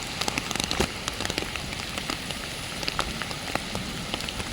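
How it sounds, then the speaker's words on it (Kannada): Heavy rain falling during a storm on a fishing outing, a dense continuous patter with scattered sharper drops striking nearby surfaces and no talk. "ಜೋರು ಮಳೆ ಬರ್ತಿದೆ."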